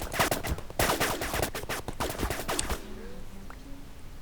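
Turret gunfire rattles in rapid bursts of loud, close shots in a game-like arena pit, then stops abruptly, leaving quiet with faint popping sounds.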